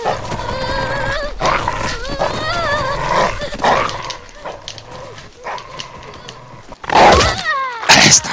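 A dog in The Walking Dead video game, Season 2 Episode 1 'All That Remains', growls and barks in several close, loud bursts mixed with character voices.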